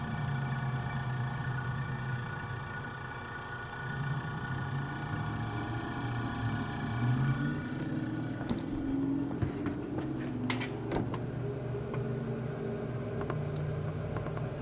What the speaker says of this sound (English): I hear gas blowing through there